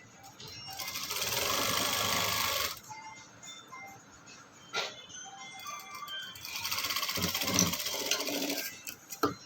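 A sewing machine stitching a frock runs in two loud, fast, whirring bursts, separated by a quieter pause with faint clicks and handling sounds.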